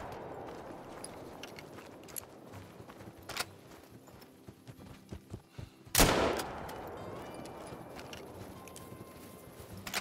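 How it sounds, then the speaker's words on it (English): A shotgun fired at big game in the hunting game Call of the Wild, one sharp loud blast in the middle of quieter footsteps and scattered movement sounds. "Tried for a neck shot there"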